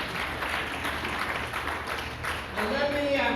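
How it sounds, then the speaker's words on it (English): Audience applause at a health care symposium conference in Detroit, Michigan, a steady broad wash of clapping throughout that swells near the end as a voice begins over it. "Give yourself a round of applause"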